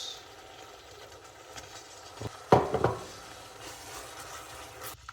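Marinated prawns for biryani added to a hot pan and stir-fried, a soft background sizzle that swells into a louder burst of hissing and scraping, then settles to a quieter fry.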